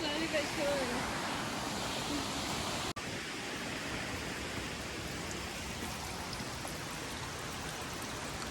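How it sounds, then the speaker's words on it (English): A small waterfall cascades in the bush, a steady broadband rush of falling water near the listener, with a voice speaking briefly over it and a short break part way through. "waterfall, a cascade I guess you'd call it."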